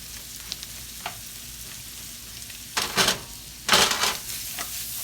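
Apples and onions sizzling in a pan, with a quiet steady hiss, faint stirring clicks and two louder bursts of frying noise as the food is moved.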